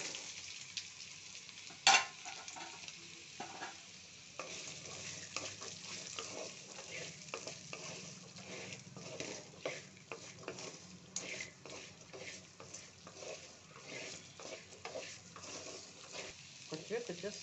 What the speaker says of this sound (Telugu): వేగింది పోపు.